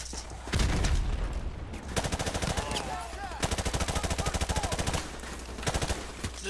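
Bursts of machine gun fire in Modern Warfare Remastered, rapid evenly spaced shots in several sustained volleys separated by short gaps, loud and close, with faint whistling tones between them.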